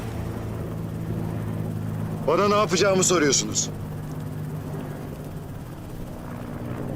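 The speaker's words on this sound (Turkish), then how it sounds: "helikopterlere bakmayın" A helicopter drones steadily in the background throughout, while someone speaks briefly over the constant rotor noise.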